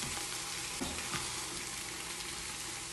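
Food frying in a pot with whole spices, a close, dense and steady sizzle with occasional stirring scrapes.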